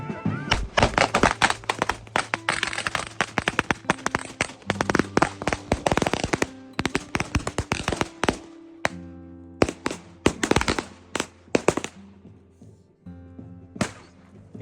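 Firecrackers explode at a village wedding in rapid, irregular bursts of sharp bangs, dense at first and then thinning to scattered pops, with some ringing echo.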